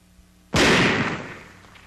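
A single sharp, loud blast as .50 caliber machine gun fire strikes an old one-piece oxygen tank and shatters it, dying away over about a second.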